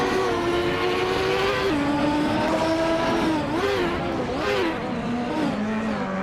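A Reynard 95 race car engine drones steadily in a racing video game, its pitch wavering and dropping through gear changes, loud and continuous throughout.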